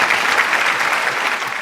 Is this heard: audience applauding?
yes